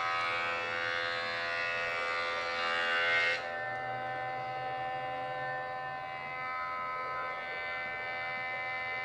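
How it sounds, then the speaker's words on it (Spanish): A wood planer runs steadily while smoothing a butcher block cutting board, a loud harmonic whine and roar that drops in pitch and volume partway through as the cut ends, then keeps humming alone. "Ahora la vamos a pasar al cepillo para dejarla que quede toda pareja."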